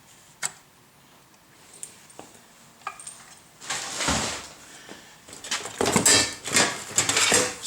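Metal pot lids are handled among donated items, with scattered light clicks and taps at first, then louder bursts of clattering, rattling metal close by, and no speech.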